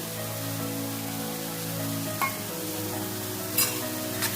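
Large ripe tomatoes sizzling in oil in a covered pan, a steady, even frying hiss with a low hum beneath and a few faint clicks near the end.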